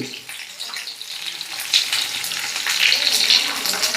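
Chopped cabbage dropped into a hot pan for a Telugu-style cabbage chutney, giving a steady hissing sizzle that swells slightly partway through, close and fairly loud with no talking.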